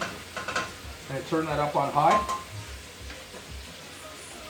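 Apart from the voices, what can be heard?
mussels sizzling as they are dumped into a hot pan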